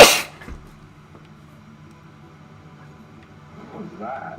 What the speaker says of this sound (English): Me sneezing.